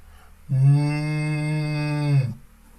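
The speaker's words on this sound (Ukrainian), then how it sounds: "Знов пролунав звук, дуже схожий на мукання корови, яка паслася на лісовій галявині." A cow grazing in a forest clearing lets out one long, steady moo lasting nearly two seconds, close and clear against a quiet background.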